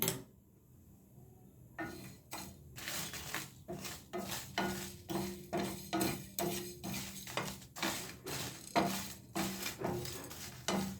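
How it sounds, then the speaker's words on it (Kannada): Masala for prawn sambar is roasted and stirred in a pan on the stove, heard as a steady run of rhythmic scraping and clinking strokes with a faint sizzle under them, close and fairly quiet. "ಈಗ ಸ್ಟವ್ ಹಚ್ಚಿ ಮಸಾಲೆಯನ್ನು ಹುರಿಕೊಳ್ಳೋಣ"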